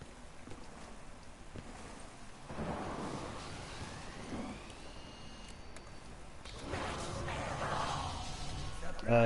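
Thunderstorm with lightning in the Call of Duty zombies map Der Eisendrache, heard as low distant thunder rumbles swelling and fading over a steady background wash, growing louder toward the end.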